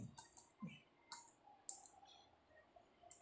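Computer keyboard typing: a few quiet, sharp clicks at an irregular pace, close by, with faint background hiss between the keystrokes.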